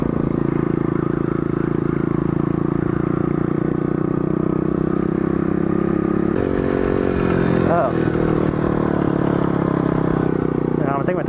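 A small mini moto bike engine drones loud and steady as it is ridden, a constant close buzzing rumble with shifting pitch changes partway through and speech mixed in.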